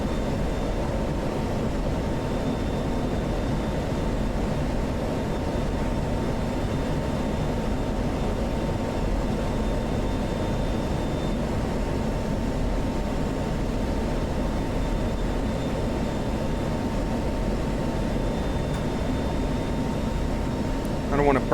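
The F-16 jet engine in the DCS flight simulator video game gives a continuous broadband roar with a steady whine. It holds constant and loud throughout with no breaks.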